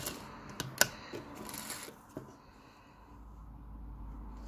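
Vintage Singer 201k sewing machine stitching through thick leather, a few sharp close clicks and clatters up front, then fading to a soft low whirring.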